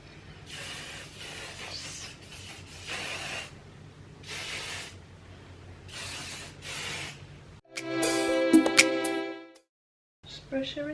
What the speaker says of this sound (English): Grab the spray.